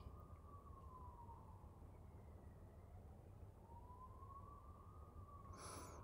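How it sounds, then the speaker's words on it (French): A distant police siren passing outside wails in slow rising and falling sweeps, faint beneath a steady background hum. "on entend les sirènes de... Je crois que ça doit être la police là qui est en train de passer en bas"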